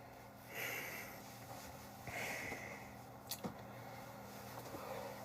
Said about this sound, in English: I'm blowing my nose.